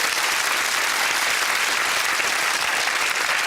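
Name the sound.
studio audience applause for a game show contestant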